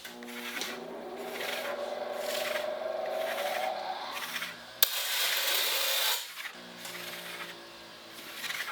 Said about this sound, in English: I'm going to use my bench grinder here.